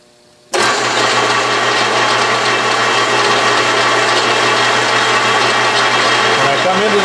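An Atlas/Craftsman 12-inch lathe motor switches on abruptly and runs loud and steady for several seconds during a threading job, with no speech.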